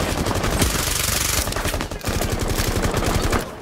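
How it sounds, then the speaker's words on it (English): Heavy automatic gunfire in the video game Rainbow Six Siege rattles in loud, rapid bursts, nearly continuous with a short break, close and harsh throughout. "Taking heavy fire."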